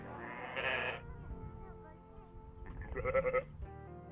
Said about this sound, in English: We have several different breeds of goats, both milk goats and dairy goats.